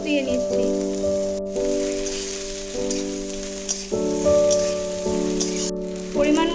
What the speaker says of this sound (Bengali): মাছ ভেজে উঠিয়ে রাখা তেলটার মধ্যে পেঁয়াজগুলোকে দিয়ে নেব